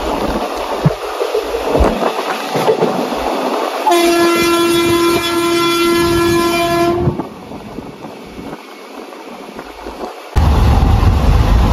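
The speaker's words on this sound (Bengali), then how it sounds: "থেকে আমাদের ট্রেন বেরিয়ে গেছে এখন" A Rath Yatra special passenger train from Kolkata to Puri rolling along, a loud continuous rumble with clattering wheels and a long sustained horn blast in the middle, heard from on board.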